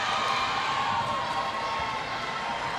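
A high school volleyball crowd in a gym roars and cheers after an ace serve, a loud sustained wash of voices and shouts that holds steady for the whole moment.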